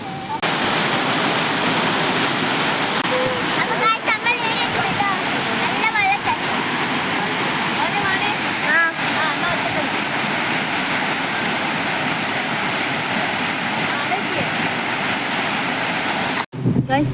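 Water pours steadily from a waterfall in a misty, fog-covered spot, a loud, continuous broadband rush that holds unbroken for the whole stretch and stops abruptly near the end.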